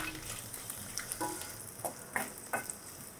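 Green chillies and onions fry together in a pan, giving a soft continuous sizzle with a few brief stirring scrapes, faint and without talk.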